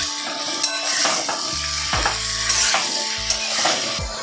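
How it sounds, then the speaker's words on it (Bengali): Note shak (amaranth greens) fries in oil with salt in a pan. A close, steady sizzle is broken by repeated scraping and stirring strokes of a utensil against the pan, and a few metallic knocks. "এবারে এটাকে আমি ভেজে নেব ভালো করে"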